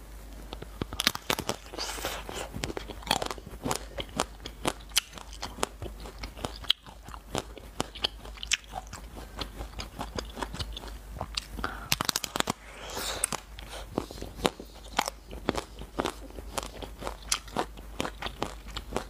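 Crispy-shell pomelo ice cream being bitten and chewed up close, a steady run of sharp, crackly crunches repeating throughout with no talking.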